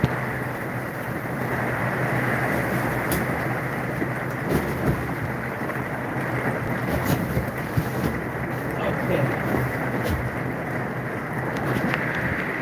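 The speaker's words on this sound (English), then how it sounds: "I didn't expect a thunderstorm to be coming through" A thunderstorm passing over outdoors gives a steady, loud wash of rain and wind roar with occasional sharper cracks and rumbles, continuous throughout with no clear talk on top.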